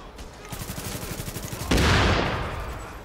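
Rapid automatic gunfire in The Division, a steady stream of shots that swells into a louder, denser burst partway through, close and dominant.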